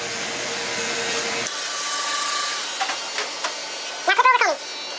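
Wahl cordless Sterling 4 clippers fitted with a 1.5 guard buzz steadily while blending a haircut, a constant motor drone with the pitch dropping slightly partway through and a few brief scraping bursts near the end.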